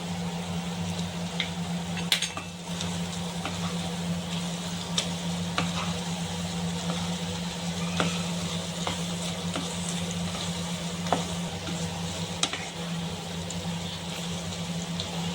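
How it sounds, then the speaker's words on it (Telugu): Chili powder cooks in oil in a pan for drumstick pickle, producing a steady, quiet sizzle with scattered small crackles and pops throughout and a constant low hum underneath. "ఇలా కారం వేసాక లైట్గా మగ్గనివ్వాలి"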